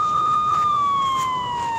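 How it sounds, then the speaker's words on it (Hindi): An ambulance siren wails loudly and close by in a single sustained, slowly falling tone that holds steady without pause. "एम्बुलेंस है भाईजान, एम्बुलेंस है"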